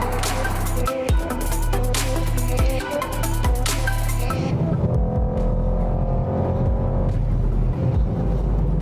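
Mercedes-AMG GT 63 S 4MATIC+ driving hard, its exhaust roaring loud and close with sharp gear-shift cracks and revving surges, then settling into a lower continuous drone; no speech.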